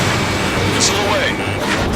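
A missile launches in Ace Combat 7 amid a loud, continuous roar of jet engine and combat noise, with a brief whooshing streak and radio chatter mixed in.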